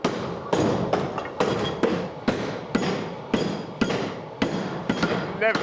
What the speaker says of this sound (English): Colin and Tom beat the steel into a spade-shaped blade using the mill's original water-powered hammer.